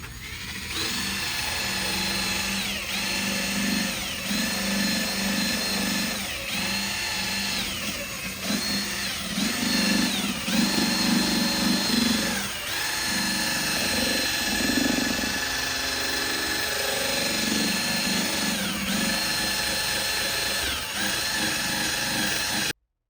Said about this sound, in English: we're going to put a little bit of the plastic on the yellow pad